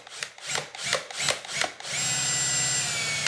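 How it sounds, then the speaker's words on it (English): A power drill revs in short bursts, then runs steadily as it bites through a plastic bucket, loud and close with no talking. "This is plastic, so it's going to be fairly easy to drill into."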